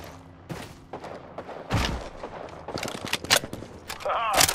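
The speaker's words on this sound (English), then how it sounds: "Getting shot at." Video game gunfire from a multiplayer shooter match, with bursts of shots and thuds going off near and far in irregular volleys as a player talks over the action.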